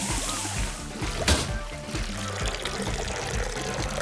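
Water pours steadily in the video game Astro Bot, a continuous splashing stream with a brief louder slosh partway through, mixed with faint game sounds.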